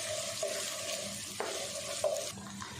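Finely chopped onion frying in ghee on a stovetop for mixed vegetables, a steady close sizzle with occasional stirring scrapes, no talking.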